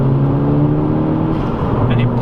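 A VW Golf GTI mk5 accelerates under power, its engine droning steadily loud from inside the cabin, with a voice speaking over it.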